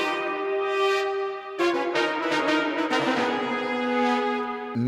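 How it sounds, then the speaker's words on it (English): Trumpets from a Native Instruments virtual sample library play sustained brassy notes, a held tone at first, then a short choppy phrase of layered stabs after a brief gap. "I layered in a layer of the Native Instruments trumpets."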